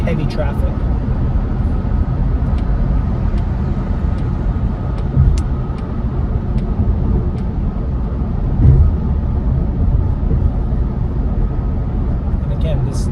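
A Polestar 2 Performance Pack electric car driving fast, heard from inside as a steady, loud hum of road and wind noise with no engine note and only slight swells.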